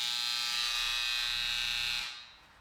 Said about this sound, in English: you want to vibrate the form, but because the form's so heavy, I went ahead and created this little oscillating tool